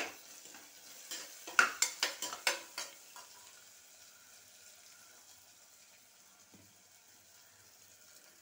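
Chilli powder stirred into hot oil for mutton kuruma, with a quick run of sharp spoon-on-pan clinks over a soft sizzle that then fades to a quiet, low bubbling hiss.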